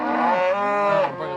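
Cows separated from their calves, one long, close, loud moo with a steady pitch that dips slightly near its end, alone without talk.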